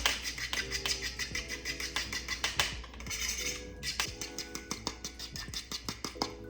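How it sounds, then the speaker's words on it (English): Homemade lemony vinaigrette salad dressing whisked briskly in a small bowl, with rapid rhythmic clinking and scraping of the whisk against the sides, steady and close throughout with no talking. "And then you just whisk it all together."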